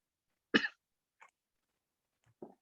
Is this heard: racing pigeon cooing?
no